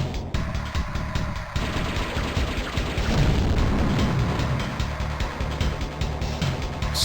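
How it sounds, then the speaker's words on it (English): Missiles burst in rapid succession during a Terminal Velocity flight battle, a continuous loud rumble of booms and explosions layered over droning engine noise, with no talking. "So many missiles."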